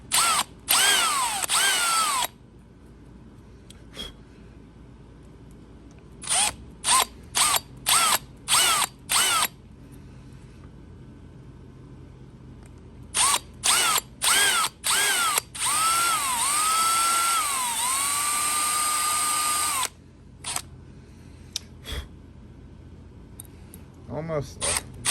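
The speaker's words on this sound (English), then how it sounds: "punch it through real hard and keep drilling" A power drill bores into the lock of a 1940s GM sidebar ignition in repeated whining bursts, some short and some long and straining. Someone talks between and over the bursts.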